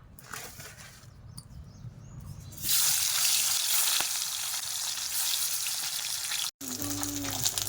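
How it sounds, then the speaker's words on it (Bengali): Katla fish pieces dropped into hot oil in a kadai, a soft crackle swelling into a loud, steady sizzle and hiss close by, briefly interrupted near the end then resuming. "আগে মাছের পিসগুলো ভেজে নেব"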